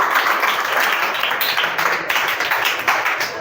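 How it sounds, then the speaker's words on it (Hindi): A group of children in a classroom clap for a classmate, a close, lively patter of many small hands that holds steady for several seconds. "ताली हो जाए"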